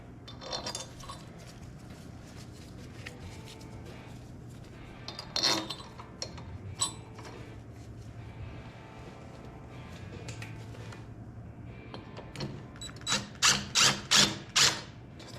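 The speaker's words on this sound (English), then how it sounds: "Just gonna hand tighten those for now" Bolts hand-tightened onto an engine head, giving quiet metallic ratcheting and clinking mechanism sounds with a few louder taps mid-clip and a quick burst of sharper clicks near the end.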